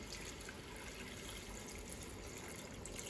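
Water pours steadily into a small cooking pot over chicken breasts for paprikash, a continuous close splashing fill with no talk.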